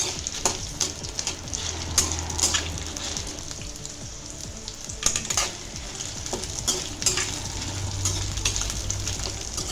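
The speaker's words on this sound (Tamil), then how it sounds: "காஞ்ச மிளகாய் போட்டுக்கலாம். போட்டு நல்லா வதக்கி எடுத்துக்கலாம்." Dried red chillies frying in oil in a pan give a steady sizzle, punctuated by repeated scraping and clinking of a stirring spoon against the metal, near and without talk.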